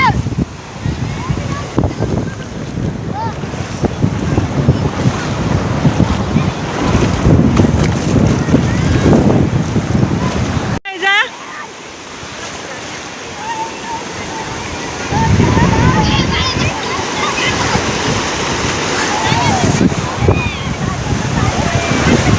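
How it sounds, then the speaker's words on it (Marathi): Large sea waves crash loudly on Kelva beach with a roaring wash of surf and gusts of wind on the microphone. The roar eases briefly midway and then builds again, with people talking over it. "जाम मोठ्या लाटा येतात."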